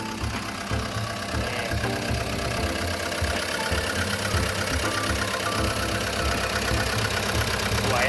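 Komatsu WA100-8 wheel loader with a turbocharged diesel engine idling steadily, a continuous low rumble with a steady mechanical hum, close and fairly loud, without talk.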